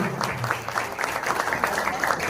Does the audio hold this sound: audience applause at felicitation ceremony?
yes